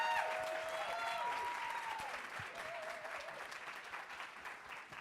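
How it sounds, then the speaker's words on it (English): An audience at a town hall event applauds to welcome E.J. Johnson, a steady roar of many clapping hands with some crowd noise and whoops, loudest at the start and tapering slightly. "can we please give E.J. Johnson a wonderful round of applause and welcome him up here?"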